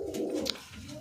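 A pigeon coos once in a short, soft, throaty burst, close by and alone, in a loft of new breeding pigeons kept for sale.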